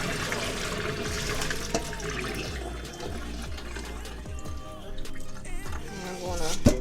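Cloudy rinse water drains from washed rice through a sieve in a home kitchen. It makes a steady trickling and splashing flow that runs for several seconds, close and moderately loud, with no voices over it.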